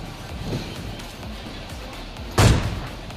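Gunfire in PUBG Mobile Lite, one loud sharp burst standing out near the end against a softer bed of game noise and a faint earlier thump.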